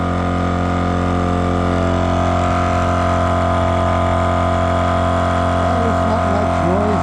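An EZ Flate portable air compressor runs with a steady, loud motor drone and constant hum, close and unbroken throughout, with a slight shift in pitch near the end.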